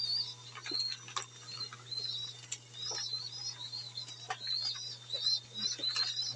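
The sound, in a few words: racing pigeons in a loft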